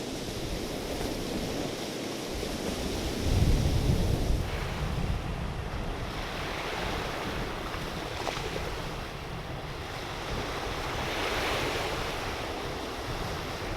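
Waves wash onto a Michigan beach on a calm morning, a steady rushing surf with occasional swells, heavily buffeted by wind noise across the microphone.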